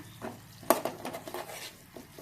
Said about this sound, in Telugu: ఇదంతా డ్రై అయ్యేంత వరకు అయితే ఇట్లా ఫ్రై చేసుకోవడమే.